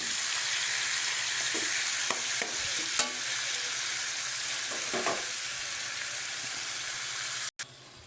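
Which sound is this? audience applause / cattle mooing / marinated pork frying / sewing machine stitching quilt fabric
marinated pork frying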